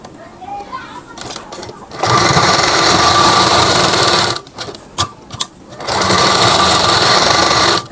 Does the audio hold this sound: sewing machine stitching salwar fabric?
yes